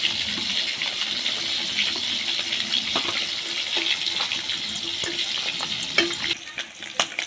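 Fried potatoes hiss and sizzle as they are stirred into masala and oil for an Odia fish curry, a steady close frying crackle with scattered clicks of a spoon against the pan.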